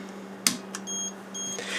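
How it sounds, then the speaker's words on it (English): Faint electronic beeps from an Olympus OM10 film camera self-timer repeating in short tones over a steady low hum, with a couple of small mechanical clicks near the start. "if you hit the self-timer, then it beeps and stuff"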